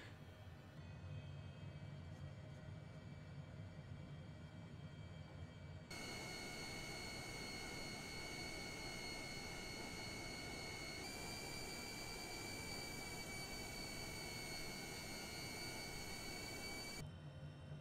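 A Honda HJet business jet's engine spools up at start in Microsoft Flight Simulator: a steady broadband roar with a sharp jump in level partway through, high whining tones settling in and holding steady until it cuts back near the end.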